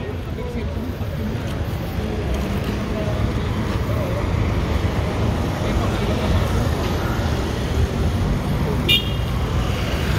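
Busy city street traffic near Jaro Market in Iloilo City rumbles steadily and loudly, with passing vehicles, a brief horn toot near the end, and people talking underneath.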